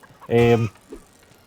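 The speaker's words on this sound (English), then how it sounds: "there's like about 4 or 5 chickens that spawn around the area by the bugbear cave" A chicken in The Bard's Tale video game gives a single loud, short cluck near a bugbear cave, then a faint trailing squawk, with no talk over it.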